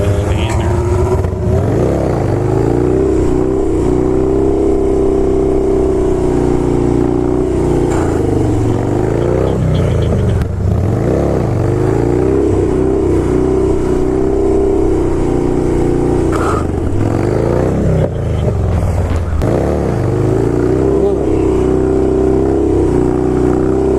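A Harley motorcycle with a 65-tooth rear sprocket sounds loud and close, its engine rumbling and repeatedly revving up and easing off through the whole stretch.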